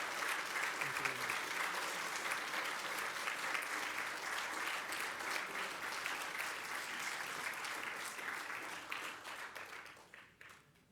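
A lecture audience applauds a guest speaker with steady, dense clapping that holds evenly for about ten seconds, then thins and fades out at the end.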